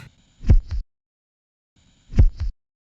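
Kick drum sample cut from a loop for an electronic track: a single deep, thumpy kick with a short double-hit tail, heard twice alone with a long silent gap between the hits.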